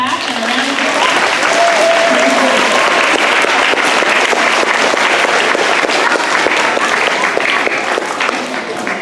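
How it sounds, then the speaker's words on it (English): Loud, sustained applause from a school assembly audience at an elementary year-end gathering, a dense continuous roar of clapping with some voices and cheers mixed in, staying close and even throughout. "give yourselves all a pat on the back and a round of applause."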